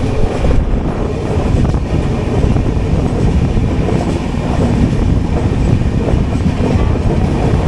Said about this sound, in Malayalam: നമ്മൾ നിലവിൽ കൊങ്കൺ റെയിൽവേ ഡബിൾ സെക്ഷനിൽ കൂടെ ഓടിക്കൊണ്ടിരിക്കുന്നത്.